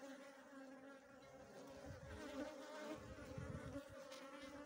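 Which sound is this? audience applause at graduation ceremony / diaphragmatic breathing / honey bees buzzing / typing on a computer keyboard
honey bees buzzing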